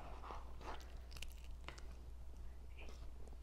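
A child crunches and chews crispy food at the table, with irregular bites and crackly crunches close to the mic over a low steady hum.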